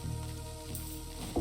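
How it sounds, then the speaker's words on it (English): Food sizzles over a campfire pit in the video game Grounded, a steady frying hiss throughout with a faint tonal hum beneath it. "Oh, I forgot about the sizzle."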